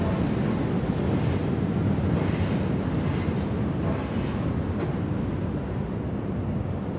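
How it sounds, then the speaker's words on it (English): Ocean surf at Manly Beach roars in a dense, continuous wash with wind buffeting the microphone, steady and close with no voices. "Listen to the ocean. It's beautiful."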